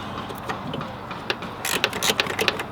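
A ratchet clicks in short, irregular bursts while loosening ignition coil bolts on a 3.6L Pentastar engine, with sharper, louder clicks near the end.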